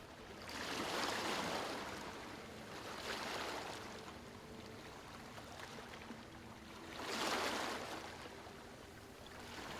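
Sea waves rolling onto the shore in slow swells, each surge building to a soft roar and receding, three broad crests over a steady wash of water, moderately loud with no voices.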